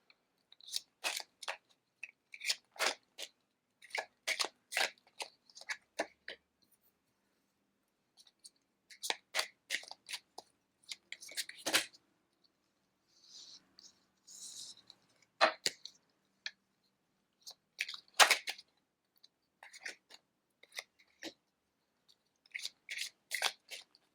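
A deck of tarot cards is shuffled by hand at close range, giving crisp riffling bursts in short runs separated by brief pauses, with no talking.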